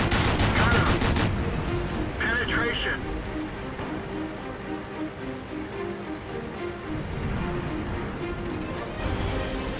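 Tank gun salvos in World of Tanks, with a Pz. 1 Ausf. C firing: rapid, rattling bursts of shots crowd the opening second, then dull impacts and rumbling battle noise carry on steadily.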